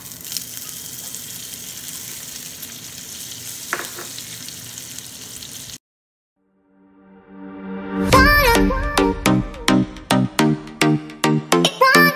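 Butter sizzles in a frying pan while making a creamy chicken butter dish: a steady, close hiss for about six seconds that cuts off, followed by a rhythmic run of sharp plucked musical notes.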